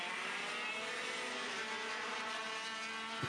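Racing karts on the final lap of a race, their engines droning loud and steady close by in one continuous buzzing whine.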